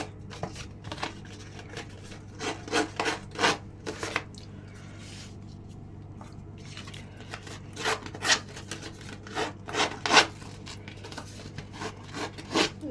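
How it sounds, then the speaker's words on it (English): A scuffing tool is scraped along paper edges in short, rough rubbing strokes that come in bursts with brief pauses, close and fairly quiet over a low steady hum. "So I'm going to scuff up my edges."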